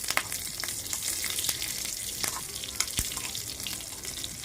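Mustard seeds, curry leaves and chillies sautéing in a little oil, a busy crackling sizzle with scattered pops and light stirring throughout.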